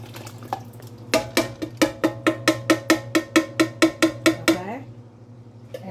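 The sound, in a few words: adding a can of spaghetti sauce to chili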